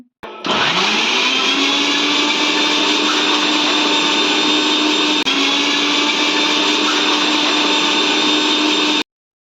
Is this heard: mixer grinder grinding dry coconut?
yes